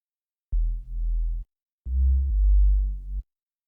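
Two sustained low FM synth bass notes in Serum, thick and buzzy with a slight chorused shimmer from seven-voice unison, each about a second long with a brief gap between.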